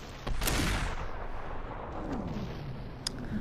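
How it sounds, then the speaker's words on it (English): Gunfire in the VR game Superhot VR: a loud crack early on followed by a decaying rumble, then a fainter sharp shot near the end. "that's so many bullets"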